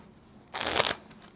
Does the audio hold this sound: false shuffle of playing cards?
yes